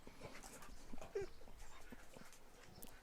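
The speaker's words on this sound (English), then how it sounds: "Hi, we got puppy dog." A puppy pants quickly and lets out small whimpers and yips, close and fairly quiet, with soft household noise around it.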